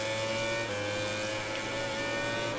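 Suzuki racing motorcycle engine in MotoGP 2020 holding a steady high-pitched drone at sustained revs, loud and continuous with no talk over it.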